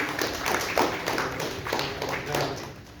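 A crowd at a book launch applauds with many hands clapping together, a continuous rippling clatter that swells and eases over a few seconds.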